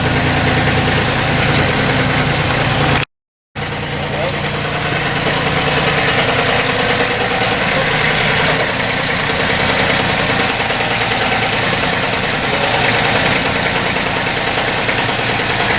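A heavy machine's engine idles steadily on a construction site where roof frames are going up, a loud continuous low rumble with vibration throughout, briefly cut out near the start.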